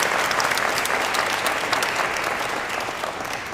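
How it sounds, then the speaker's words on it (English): Sustained audience applause at a city ceremony unveiling a memorial portrait, a dense steady wash of clapping from a large crowd that holds even and fades slightly toward the end, with no talking. "Please give her a round of applause."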